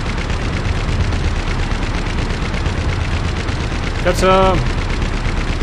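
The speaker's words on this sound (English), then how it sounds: "Gets a quite slow firing machine gun." A slow-firing machine gun on an infantry fighting vehicle in the DCS World combat game, heard as a dense, rapid rattle of shots continuing throughout, with a brief spoken word near the end.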